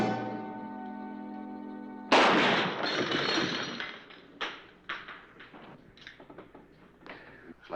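Sniper gunfire in a deserted western town, a loud crack breaking off a sustained musical chord, followed by a string of sharper, fainter reports and impacts spaced irregularly.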